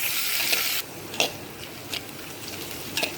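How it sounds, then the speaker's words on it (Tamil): Onions sautéing in a pan while a Dindigul thalapakatti biryani base is cooked, a loud steady sizzle that drops away and is followed by a few soft stirring scrapes, with no talking. "வெங்காயம் நல்லா வதங்கியாச்சு."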